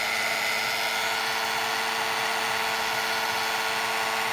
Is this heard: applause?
no